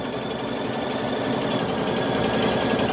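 Sewing machine stitching along the bottom of a quilted cover with polyester low-loft wadding, a steady fast mechanical whirr and rapid needle thumping, close and continuous with no talk.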